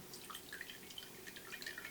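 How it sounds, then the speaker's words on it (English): Tea trickles from a teacup in light dripping, splashing pours, steady and close over a quiet room. "Let's pour my little tea from a little teacup."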